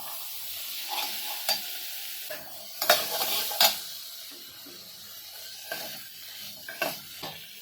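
Spinach gravy with green chillies, coriander and chickpeas stirred in a pan, close scraping and clattering strokes of a spoon over a gentle sizzle, in irregular bursts with brief pauses.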